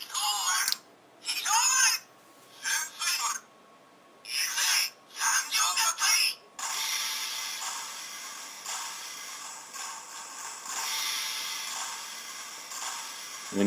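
Electronic sound effects from a Transformers Go! Gekisoumaru Kurojishi Black version toy in combined mode: choppy bursts of hissy, buzzing noise, then a continuous static-like rush, thin and moderately quiet.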